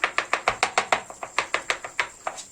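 Rapid, evenly spaced pounding strikes from mashing eggplant, about a dozen crisp knocks close up in a steady rhythm, with no talking.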